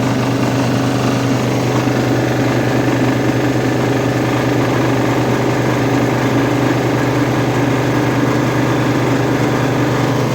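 A steady petrol generator engine, a GAB-2 running under load, drones continuously at close range, a constant low hum with a rough mechanical rattle and no letup.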